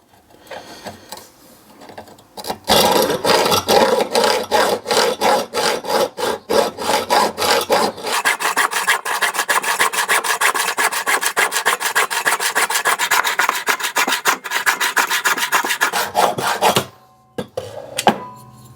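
A handsaw cutting through a clamped piece of wood, with fast, rhythmic rasping strokes running continuously for about fifteen seconds at close range before stopping.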